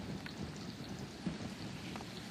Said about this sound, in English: as you can tell, the wind and the rain absolutely picking up